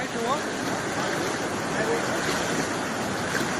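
Strong floodwater current rushing during heavy monsoon rain in Abdasa, Kutch, Gujarat, heard as a steady, dense roar of water with wind buffeting the microphone throughout.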